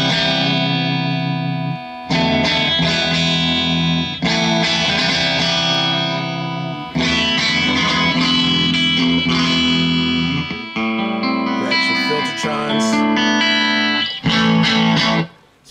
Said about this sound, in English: This is on my Super Reverb. Just on about 4, nothing cranked. All the dials about noon. No reverb, no tremolo or anything.